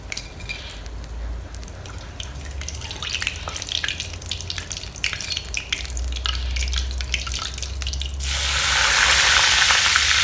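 Whole spices lightly frying in a pan for a Malabar beef dum biryani give off a steady close crackle with scattered pops, and a louder, fuller hiss swells over the last couple of seconds.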